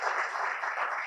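Audience applause in a conference room for a newly introduced team member at a graduate fellowship conference, a steady dense wash of clapping that holds evenly for about a second.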